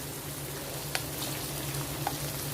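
Vinegar and soy sauce hit a hot pan, giving a steady, quiet sizzle and fry with a couple of faint clinks.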